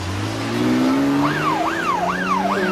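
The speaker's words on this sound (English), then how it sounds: "Loxton and Hollis speed off in the area car" A police area car speeds off, its engine revving loudly and rising in pitch as it accelerates, then a wailing siren starts up partway through and sweeps up and down in a repeating pattern.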